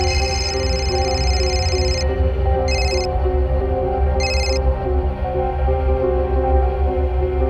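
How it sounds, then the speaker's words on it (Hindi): An electronic telephone ringtone in a Hindi crime drama chirps in short repeated bursts against a steady backdrop of dramatic music, the rings coming in three separated pulses. "मल्हार को फोन करती हूँ सब सच बताऊंगी"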